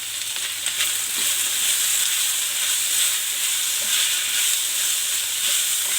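Potatoes seasoned with salt and turmeric sizzle steadily in a hot pan, a dense even frying hiss that runs unbroken throughout with no voices.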